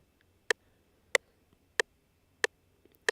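Metronome click track in music software ticking at an even tempo, five sharp clicks about 0.65 seconds apart, crisp and isolated over near silence.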